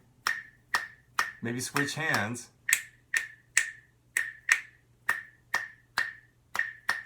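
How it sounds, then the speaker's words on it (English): Crisp finger snaps tap out the Bo Diddley beat rhythm, about a dozen bright, close clicks in a syncopated repeating pattern, briefly overlapped by a speaking voice early on and then continuing alone. "or snap it"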